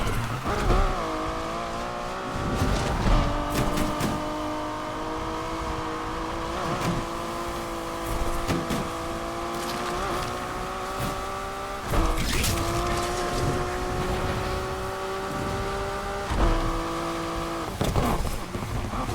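A Vulcan race car in a video game revs loudly and steadily throughout, its engine note climbing and dropping through repeated shifts, with brief sharp bursts of tire squeal as it drifts.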